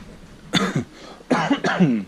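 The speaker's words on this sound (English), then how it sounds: "Apologize about the cough" Two hoarse coughs close to the microphone, the second a quick double cough, with quiet room noise between them.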